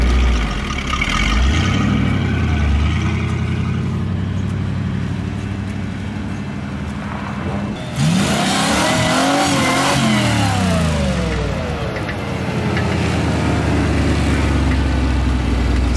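A Ford Bronco fitted with a newly installed Holley Sniper EFI revs hard outside, its engine roaring up and down in surges with a sharp climb partway through, loud and close with no talk.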